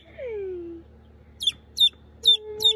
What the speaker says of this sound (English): we're in the chicken coops and they just got chicks, little baby chickies